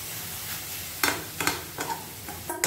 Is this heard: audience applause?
no